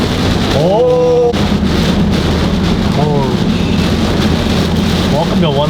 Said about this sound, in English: This might be the gnarliest rain I've ever been in.